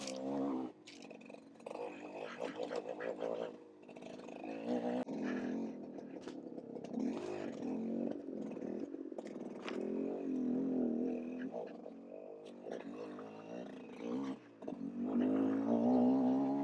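A GPX TSE 250R motorcycle engine pulls steadily in third gear, a continuous buzzing drone that rises and falls gently with throttle, heard up close with wind noise and no talk.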